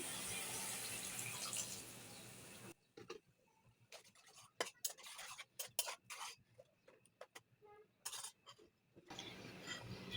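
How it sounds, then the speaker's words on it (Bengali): Water poured into a pot of beef over fried ginger and garlic gives a soft rushing hiss, followed by quiet, scattered clinks and taps in a hushed kitchen. "আর এখন দিয়ে দিচ্ছি পানি।"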